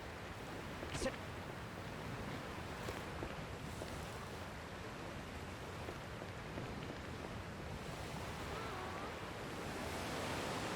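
A ship sets sail across ocean waves in Dragon Quest Builders 2, a steady wash of surf and wind, soft and constant, with a brief chime near the start and no talk.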